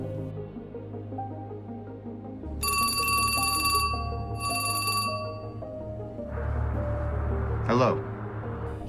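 A telephone rings in two bright, sustained electronic bursts over a low droning music bed, followed by a rushing swell and a brief rising sweep.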